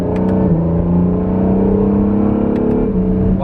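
An Acura NSX in launch mode accelerates hard, its engine note climbing steadily and dropping sharply at quick, near-instant gear changes, loud and close with no talking.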